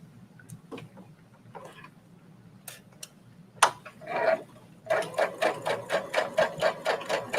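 A Brother sewing machine stitches a seam with a half-inch allowance: a few scattered clicks and fabric handling, then a steady rapid run of rhythmic needle stitching, close and clear, with no talking.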